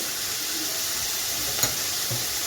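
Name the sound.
drumstick flowers frying with chillies, stirred in a pan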